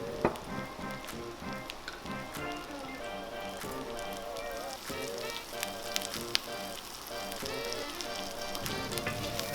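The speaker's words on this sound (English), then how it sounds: "get a healthy knob of butter in the pan. Add the mushrooms, followed by some salt and the chopped up thyme." Mushrooms frying in a generous knob of butter with salt and chopped thyme in a pan over medium-high heat give a steady, continuous sizzle with crackle throughout.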